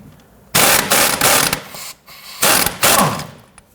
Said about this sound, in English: Using a 15mm socket, we're going to go ahead and loosen and remove the nut on the lower portion of our sway bar end link.